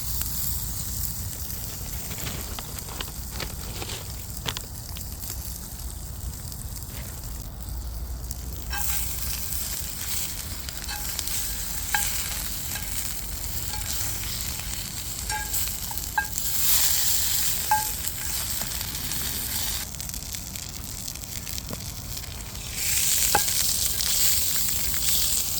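Sausages fry in a cast iron pan over a Swedish torch at a bushcraft camp, a steady close sizzle and hiss for a long stretch that flares louder in bursts near the end, with no voices.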